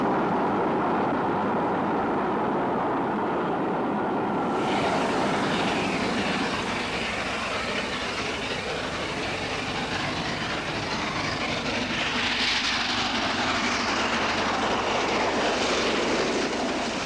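A Southern Railway Bulleid Pacific steam locomotive passes at high speed at Hook in 1964, a loud sustained roar of train and rushing air that swells as it nears and sweeps by, with no voices.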